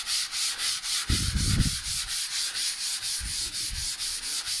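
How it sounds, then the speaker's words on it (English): Hand sanding with 320 grit sandpaper, an even back-and-forth scratchy rasp of many quick, regular strokes, close and steady, with two heavier rubbing bursts. "With 320 grit paper. You can sort of hear, see, I haven't sanded that bit"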